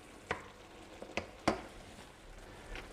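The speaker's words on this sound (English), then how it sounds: "spinach in, simmer for 1 moment" Spinach simmers in a pan with a soft, low sizzle beneath a few sharp clinks and scrapes of stirring, quiet and close.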